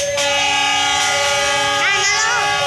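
A passenger train, the Bima service bound for Gubeng station, crossing an elevated track above homes, heard close and loud as a steady rumble with a sustained, wavering horn blast near the end.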